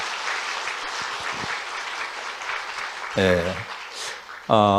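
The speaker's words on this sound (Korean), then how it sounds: "크게 한번 뜨거운 박수로 하나님께 영광 한번 올려주시기 바랍니다" A church congregation at a neighbourhood invitation gathering gives a warm round of applause, a steady crowd of clapping, with voices breaking in loudly near the end.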